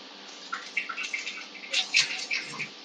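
Water is poured for jal neti (nasal rinsing), a thin splashing trickle with small irregular bursts and drips, moderately near and alone without talk.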